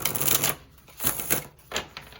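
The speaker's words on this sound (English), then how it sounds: "So I'm actually going to shuffle some more." Tarot cards being shuffled by hand, giving three quick riffling bursts with short pauses between them, close and fairly loud.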